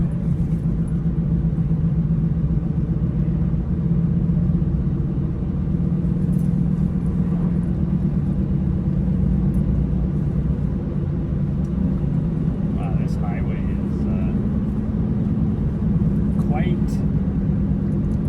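Heavy traffic rolls along 10th Avenue South, a busy six-lane street, as a continuous low rumble of passing cars. The noise is steady and moderately distant, with faint higher clatter in the later seconds.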